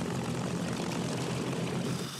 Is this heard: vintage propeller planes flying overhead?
yes